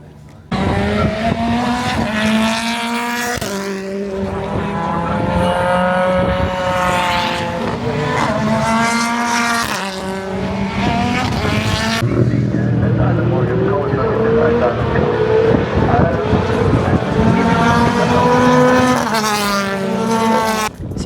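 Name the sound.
British Touring Cars racing in qualifying at Knockhill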